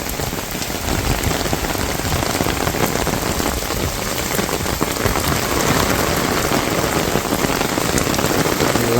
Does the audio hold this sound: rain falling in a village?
yes